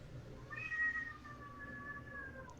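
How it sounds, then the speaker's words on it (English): A cat gives a long, thin, sustained meow lasting about two seconds, faint and somewhat distant over a low background hum. "I hear a cat"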